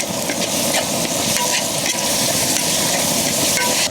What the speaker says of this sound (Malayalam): മൂന്ന് ടീസ്പൂൺ വെച്ച് ഇഞ്ചിയും വെളുത്തുള്ളിയും ചതച്ചത് ഇനി നമുക്ക് നന്നായിട്ട് വാട്ടിയെടുക്കാം